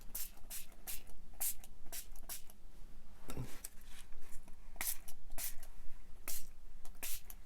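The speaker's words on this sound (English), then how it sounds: "So we're going to spray this." Repeated short hissing sprays of oxide ink from a spray bottle burst out at an irregular rhythm, close by, with a soft scuffing sound in the middle and quiet room noise between bursts.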